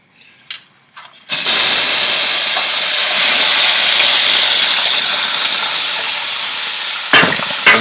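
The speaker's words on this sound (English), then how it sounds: "He heard the sizzling and it scared him." A loud, sudden hiss of vegetables hitting hot oil bursts in and keeps sizzling steadily, fading slightly, with a few clatters before and near the end.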